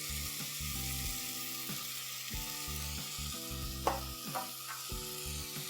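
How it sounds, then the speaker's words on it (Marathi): Dry mutton masala sizzles steadily in a pan for Koli-style mutton, a continuous hissing fry with a few clinks of a spoon against the pan, close and without talk. "तो थोडा फ्राय करून घेऊया।"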